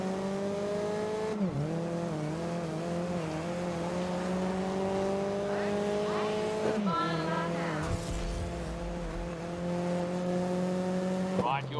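A race car in GRID skids under the handbrake during a final lap, with a loud continuous engine whine that dips sharply at each handbrake turn and then climbs back, with a brief rough scrape partway through.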